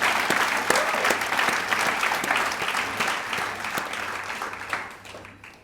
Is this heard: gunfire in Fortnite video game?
no